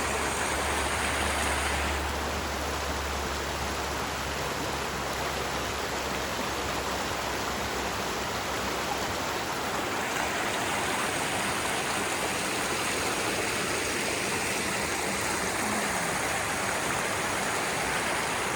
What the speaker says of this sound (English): The waterfall down there.